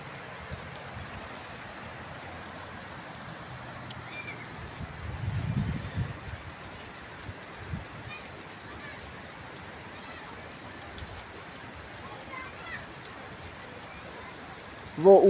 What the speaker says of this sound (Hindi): ये देखिए बारिश शुरू है माशाल्लाह और ये तकरीबन 12 बजे से बारिश शुरू है।